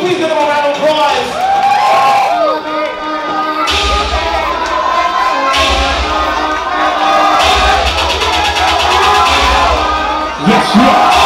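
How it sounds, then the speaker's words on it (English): A crowd cheers and whoops for performers at a ballroom performance battle, with lively shouting and cheering under loud music and speech. "Can we please give them a round of applause?"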